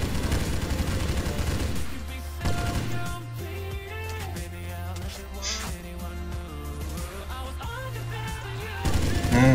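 Rapid gunfire bursts from the offline zombie shooter mobile game Zombie: Whispers of the Dead, dense and continuous over game music and effects, with a voice talking over it.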